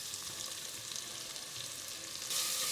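Chopped onions sizzle in hot oil with cinnamon, bay leaves and cloves in a pot for Indian-style chicken pulao, a steady bright crackle that grows louder near the end.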